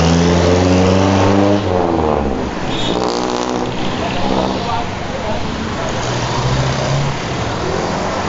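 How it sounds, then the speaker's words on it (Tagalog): Heavy road traffic on a city road in the Philippines, with car engines revving and accelerating in a loud, constant rumble close by. "Yan, masyadong traffic ngayon ha."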